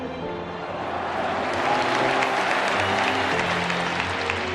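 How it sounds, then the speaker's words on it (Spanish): A large audience applauding in tribute to football players lost in an air disaster, dense sustained clapping that swells slightly midway and continues evenly, filling the space. "E eu queria humildemente que todos pudessem dar uma salva de palmas àqueles irmãos que se foram."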